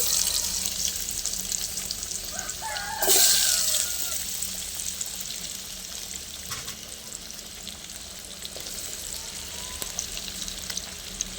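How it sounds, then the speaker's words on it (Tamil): Chili powder and potatoes frying in hot oil, a steady hiss and sizzle throughout with a brief louder burst of spattering early on, no voices. "ஒரு 2 நிமிஷம் இது நல்லா அப்படியே எண்ணெயிலே பொரியட்டும்"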